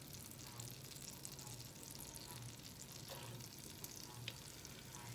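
Garlic sizzles in melted butter in a pan, a steady, fairly quiet hiss with a few faint stirring clicks, and no talking.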